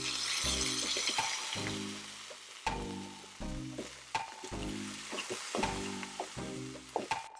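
Eight ounces of chorizo sizzling loudly in a pan, with a wooden spoon scraping and breaking it up in repeated rhythmic strokes, steady frying hiss underneath throughout.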